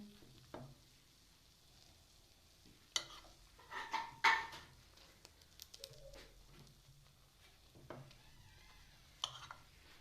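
Egg burger patties frying in a pan, a quiet sizzle broken by a few sharp clinks and pressing scrapes, with faint birdsong nearby.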